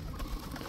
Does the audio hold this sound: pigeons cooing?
yes